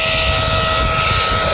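An electric pump whines steadily and loudly as it vacuums the air out of a packable kayak, pulling it down tight, with a constant tone and no talk.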